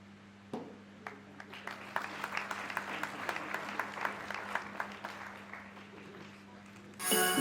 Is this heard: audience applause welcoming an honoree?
yes